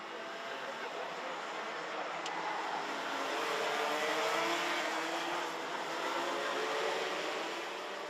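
Senior racing karts lap a race track during a heat, their engines a faint, steady distant drone that rises and falls gently with no break.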